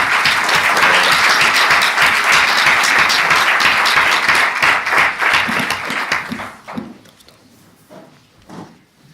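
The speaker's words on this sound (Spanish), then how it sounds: "pido un fuerte aplauso para don Pedro Esbarz Girón" Dense, loud audience applause greets Pedro Schwartz at a talk in León on democracy and liberty, a steady wash of many hands clapping that thins out and fades after about six seconds, leaving a few scattered claps.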